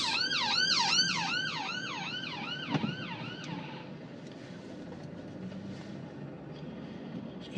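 A wailing ambulance siren sweeps up and down repeatedly, loud at first and then fading away beneath steady traffic rumble.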